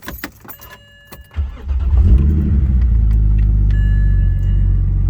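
A BMW E9X fitted with cheap intake scoops, keys jangling and small clicks before the engine fires up into a deep, steady rumble that grows loud and holds, close by.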